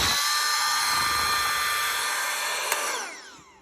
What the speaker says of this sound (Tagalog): Yung actual air pump na malakas.